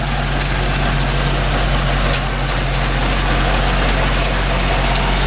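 A John Deere 5050D tractor engine runs steadily and loudly near a groundnut field with a baler, a constant low diesel drone with no change in pace and no speech over it.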